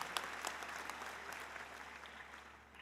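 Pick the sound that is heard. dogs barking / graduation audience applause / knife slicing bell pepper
graduation audience applause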